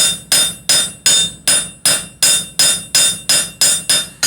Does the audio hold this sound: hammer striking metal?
yes